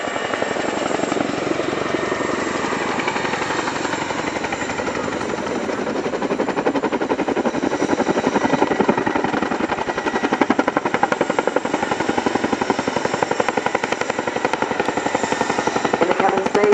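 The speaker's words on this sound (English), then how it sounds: "As the aircraft turns towards you" An aircraft at the RIAT 2018 airshow at Fairford turning in to land, giving a loud, steady engine and rotor-like roar that holds for the whole stretch and swells slightly toward the end, with no talk.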